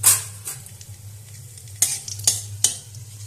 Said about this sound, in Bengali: বাকি তেলে আমি এই গরম মশলাগুলো ফোড়ন দিয়ে দিলাম